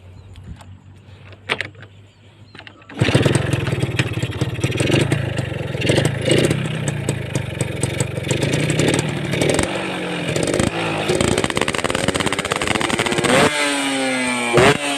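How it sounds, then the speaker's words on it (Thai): A Yamaha JR120 motorcycle engine fires up after a few faint clicks, idling roughly and loudly up close, then revs up in rising bursts toward the end. "เดี๋ยวเราลองฟังเสียงเครื่องกันดูเลยนะครับ"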